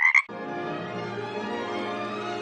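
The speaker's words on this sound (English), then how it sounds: "a frog jumped out" In The Sims, a frog gives a short bright croak, then a sustained buzzy trilling croak rings on steadily for two seconds, clear and close with no talk.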